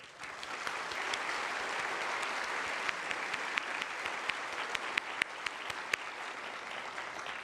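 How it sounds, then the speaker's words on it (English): Audience applause at a NASA event at Johnson Space Center, a moderate, steady patter of clapping with scattered sharper claps standing out, somewhat distant and with no talk over it. "So I want to give a round of applause to Johnson here."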